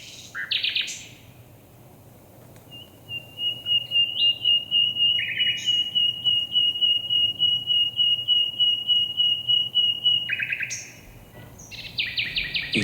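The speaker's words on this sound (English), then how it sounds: "Just like these two nightingales." Two nightingales sing against each other in a spring territorial song battle: quick chirps and trills around a long, steady whistled note held for several seconds, clear and fairly close over a soft background hiss.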